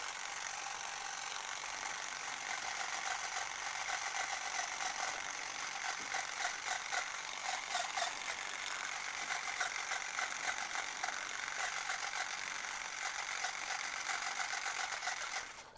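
A Klixer machine works straight hair into dreadlocks, giving a continuous fast mechanical buzzing rattle, steady and close throughout, with no one talking.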